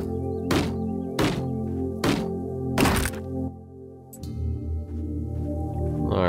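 Tree chopping in the video game Dysmantle, four loud, evenly spaced thwacks over a steady background drone, then the hits stop and a short swishing sound follows.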